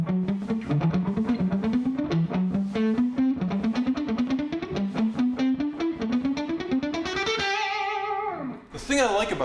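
A guitarist picks a fast passage on a distorted electric guitar, rapid notes climbing in repeating runs that shift between one speed and double time, then end on a sustained chord before a brief sound at the close.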